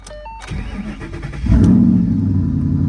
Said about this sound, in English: Let's see if it'll start, guys.